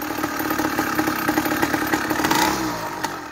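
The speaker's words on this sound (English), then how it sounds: "Hey, look at that. I got it to idle." A small engine with a 49mm iron-sleeve cylinder, converted to run on pure ethanol, idles steadily at close range with a rapid, even putter and a light mechanical clatter, no voices over it.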